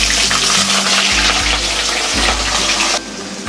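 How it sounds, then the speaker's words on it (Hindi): Potatoes and onion fry in hot oil with a loud, dense, continuous sizzle and hiss heard up close, with low shifting hums beneath and a sudden drop in the high crackle near the end; no talking. "आलू और प्याज को हम 2 मिनट तक भून लेते हैं।"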